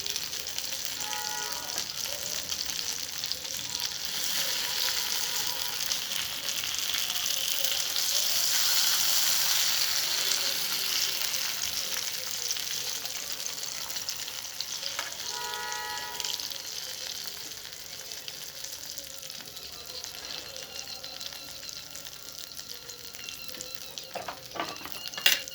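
Alexandrian-style sausage browns in a pan over a spirit stove, giving a continuous soft sizzling hiss that swells and fades, with occasional light scrapes and clinks near the end.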